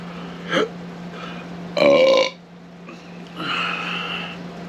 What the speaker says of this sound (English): That burp normally means compliments to the chef.